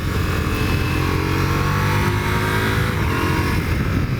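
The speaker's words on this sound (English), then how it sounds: "I'm going to downshift right there at the middle of the corner." A Ducati Multistrada V4S motorcycle downshifting mid-corner without the clutch, its engine droning loud and close with a rising and falling rev and wind rush, no voices.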